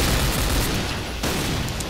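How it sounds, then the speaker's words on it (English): A thrown grenade bursts in a first-person shooter game on the Midtown map: a dull, rumbling explosion with a second sharp blast partway through, fairly close and alone without voices. "I'm gonna chuck a nade there."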